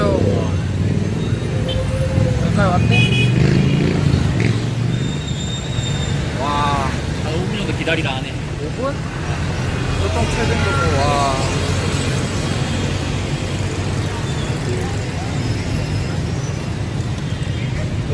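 Street traffic in Vietnam, motorcycles and cars, rumbles continuously with engine drone and occasional horn-like tones, while people talk over it throughout.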